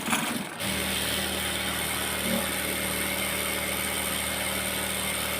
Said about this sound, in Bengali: এখানে একটা সেলাই আমি দিয়ে দিচ্ছি।